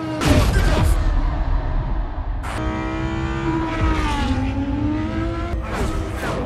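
In a racing video game, a car's engine revs and whines through gear changes as it skids, with sharp bursts of tire and impact noise, loud and close throughout.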